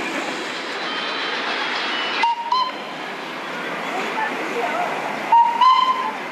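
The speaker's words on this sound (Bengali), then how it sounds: "একটিবারের অভিজ্ঞতা অর্জনের জন্য টয় ট্রেনের জার্নিটা মন্দ নয়।" The Darjeeling toy train runs between Darjeeling and Ghum with a steady, close rolling rumble, broken by two short high whistle toots, one near the middle and one near the end.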